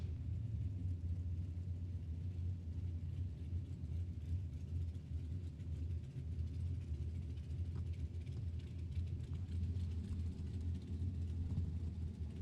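Continuous low rumble from a drag-racing dragster engine at the World Super Pro Challenge, steady and moderately loud throughout with no speech, sounding like an idling or staging engine heard from a distance.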